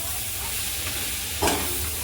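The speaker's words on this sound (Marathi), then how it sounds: "तर छान आपण परतून घ्यायचं" A spoon scrapes and stirs mixed sprouted lentils in a hot wok over a constant sizzle, with one louder scrape near the end.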